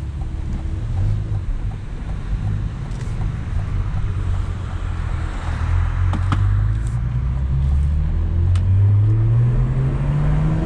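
A Cadillac CT4-V Blackwing engine hums low under heavy wind and road rush while driving, its note swelling and climbing toward the end as the car accelerates.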